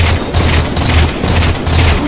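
Incineration cannon fire in a Halo 4 Dominion match: a loud, dense rumble of repeated booming blasts, pulsing roughly every quarter second throughout.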